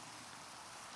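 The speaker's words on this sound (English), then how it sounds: "now it's raining" Rain in the video game Minecraft, a soft, steady, even hiss of falling rain heard alone and at low volume.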